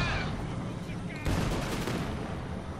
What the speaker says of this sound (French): On essuie des tirs anti-chars!